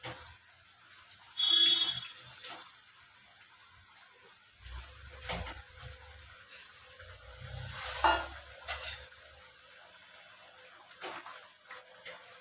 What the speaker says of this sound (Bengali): মাছগুলো দিয়ে দিলাম ঝোলের মধ্যে।